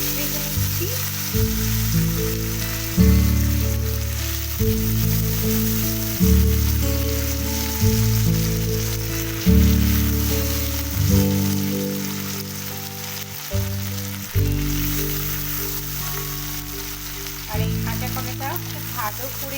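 Raw plantains coated in salt and turmeric fry in oil with a continuous bubbling sizzle that sits under steady, repeating tonal music throughout.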